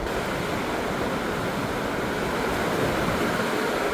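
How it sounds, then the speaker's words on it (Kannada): Heavy monsoon wind and rain roar outside a hotel balcony in Sringeri, a dense, steady broadband wash that stays loud and unbroken throughout, with no voices. "ಈ ಒಳ್ಳೆ ಗಾಳಿ ಮಳೆ ಸರಿ ಕೇಳಿಸ್ಕೊಳ್ಳಿ"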